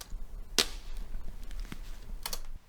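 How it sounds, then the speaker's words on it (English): A prop gunshot fired on a film set gives a sharp, close crack, followed a moment later by fainter clicks and another cluster of snaps against a quiet background. "some prop sound was used on location to mark the time where the gunshot is fired"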